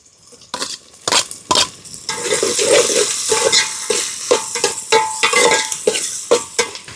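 Onions and green chillies frying in a pan, a steady sizzle beneath repeated scraping and clattering strokes of a spoon stirring against the metal, close and fairly loud with no talking.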